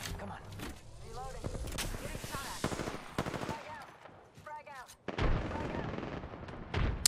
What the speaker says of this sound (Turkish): Arkadan da biri vuruyor galiba.